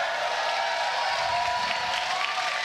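A crowd at the Fortnite Summer Skirmish esports event claps and cheers, a steady wash of applause and voices filling the hall, broad and continuous for the whole stretch with no single voice standing out.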